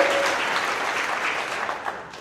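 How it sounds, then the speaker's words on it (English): Sustained applause from an audience at a workplace monthly celebration, honoring a second-shift service technician: a dense, steady wash of many hands clapping throughout, fairly loud and with no talk over it. "Please applaud for him."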